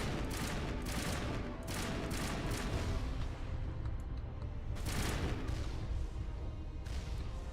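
Automated one-hit-kill turrets in Mass Effect firing heavy repeated bursts, with loud volleys rising and falling over a constant roar of combat noise.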